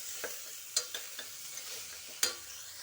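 Frozen peas frying in a pan are stirred with a spoon, a soft sizzle underneath several sharp scraping clacks at uneven intervals, close by and without talk.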